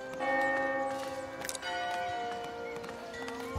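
Church bells ringing from a village church bell tower in the medieval city-building game Foundation, sustained overlapping tones with a brief dip midway, steady and fairly loud, no talking.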